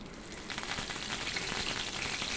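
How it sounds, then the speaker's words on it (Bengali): Curry leaves fry in hot oil with black cumin and dried chilli, giving a steady, dense sizzle and crackle that stays close and continuous throughout, with no voices. "একটুখানি ভাজা ভাজা করে নিচ্ছি"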